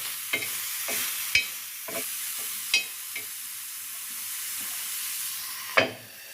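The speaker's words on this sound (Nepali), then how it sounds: "अलिकति यसलाई चलाएर यसलाई फुट्छौँ हामी।" Bitter seeds roasting in a pan while being stirred for a Nepali bitter-fruit pickle, with a steady sizzling hiss and several sharp clacks of the spoon against the pan, heard alone without talk.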